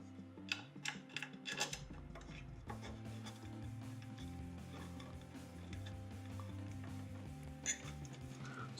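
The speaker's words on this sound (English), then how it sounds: "get my Allen wrench on here." An Allen wrench turns M5x25 screws while a Micro Swiss hotend is fitted to an Ender 5 Plus 3D printer: soft scraping and small metallic ticks, close and intermittent, over a faint steady background tone.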